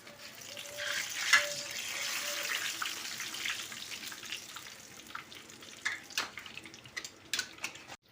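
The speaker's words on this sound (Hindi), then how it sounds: "ये हमने दोबारा डालने लगे हैं बैंगन अपने ऑयल के अंदर" Eggplant pakoras fry in hot oil with a soft, continuous hiss, close but fairly quiet, with scattered crackles and louder pops growing more frequent toward the end.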